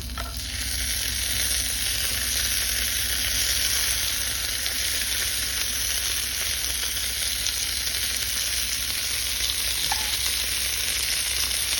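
Tofu steak sizzles loudly and continuously on a hot plate, a dense, even crackling hiss that runs without a break from start to finish.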